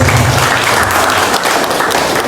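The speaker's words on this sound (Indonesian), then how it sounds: "Berikan aplaus untuk Pak Dirto." Audience at a Pancasila Day ceremony gives loud, sustained applause, a dense wash of clapping that stays steady and fills the whole moment with no speech over it.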